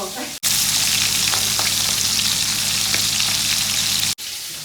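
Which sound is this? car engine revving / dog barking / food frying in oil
food frying in oil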